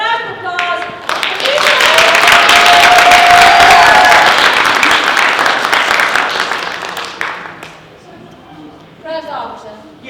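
A convention crowd at the Wild Wild West Con 2024 tea dueling finals bursts into loud applause with some cheering, swelling after a brief spoken line and fading out before talk resumes.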